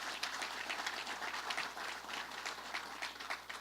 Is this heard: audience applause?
yes